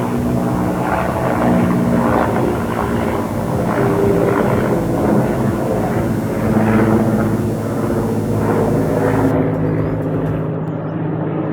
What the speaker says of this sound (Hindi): MI-17 द्वारा कैस्टल के खराब पड़े हेलीकॉप्टर को टो करके नीचे लाया जा रहा था